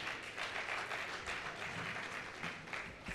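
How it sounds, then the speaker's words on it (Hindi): Audience at a talk breaks into sustained applause, a dense wash of many hands clapping at a moderate distance, steady throughout with no speech over it. "ऑडियंस जोरदार तालियां हो जाए।"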